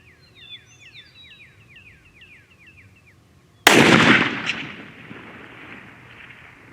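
A single sharp, loud rifle shot from a Remington 700 VLS chambered in 22-250 cracks after several seconds of quiet chirping birds, followed by a fading echo across the range.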